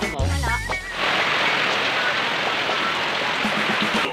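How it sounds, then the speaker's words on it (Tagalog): Steady rain pours on an island, a dense, even hiss that fills the scene for several seconds after a brief burst of voices at the start. "Tila lilipas din ang ulan."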